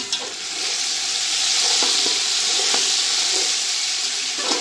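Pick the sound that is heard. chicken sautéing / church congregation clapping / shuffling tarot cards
chicken sautéing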